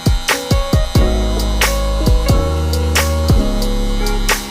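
An electric hair clipper motor hums steadily and close up, its buzzing tone shifting slightly, with several sharp clicks and snaps near the start.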